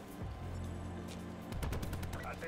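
A Paladin sniper rifle in Black Ops 4 fires a quickscope shot, a sharp boom followed by a second heavy crack and rumbling echo over game ambience.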